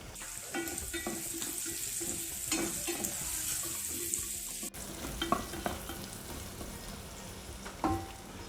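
Chopped mango ginger sizzling in hot oil with mustard seeds, dried chilli, curry leaves and turmeric, a steady close frying hiss with intermittent stirring scrapes and clinks of the spoon against the pan.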